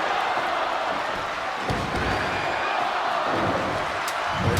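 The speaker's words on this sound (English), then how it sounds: "The crowd is loving this" A wrestling show crowd roars in a steady, dense wash of cheering and noise, with a few thuds and slams standing out over it.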